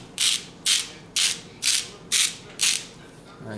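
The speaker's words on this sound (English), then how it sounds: "kind of just grind a little bit of salt there" A hand salt grinder is twisted over pork being prepped for pulled pork, giving six short, evenly spaced gritty crunching bursts, close and fairly loud, with no talking.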